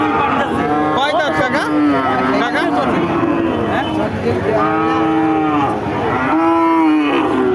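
Several cows moo loudly and repeatedly at a cattle market, long drawn-out calls overlapping one another amid a busy crowd background with people talking.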